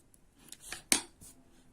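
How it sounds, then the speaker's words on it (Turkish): Scissors snip through excess nylon rope in a few quick, faint close cuts, each a sharp metallic click in an otherwise quiet room. "daha sonra bu fazla iplerimi kesiyorum buradan"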